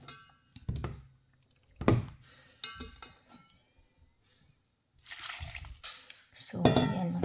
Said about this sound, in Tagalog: Lagyan natin ng tubig mga lalabs.